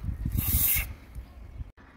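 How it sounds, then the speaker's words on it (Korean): WD-40 lubricant sprayed onto the nuts under a bicycle saddle, a short hissing aerosol burst of under a second, close and moderately loud, followed by quiet handling noise. "너트 부분에 뿌리고 조금 기다리고요."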